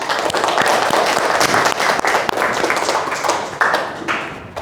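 A classroom group claps for a classmate, a dense, steady burst of many hands applauding together at close range, with no talk over it.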